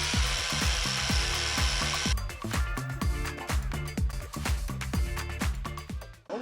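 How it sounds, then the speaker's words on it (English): Rust is worked off metal in a quick, even rhythm of rasping back-and-forth strokes, close and fairly loud, with a harsher hiss in the first couple of seconds. "All the rust has been grounded off,"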